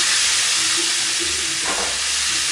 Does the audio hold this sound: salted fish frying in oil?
yes